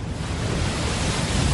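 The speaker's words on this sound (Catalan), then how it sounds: "El mar s'ha embravit" Stormy sea waves crash under strong wind during a huge storm near Yonaguni, a loud, continuous roar of surf and gusting wind with no voices.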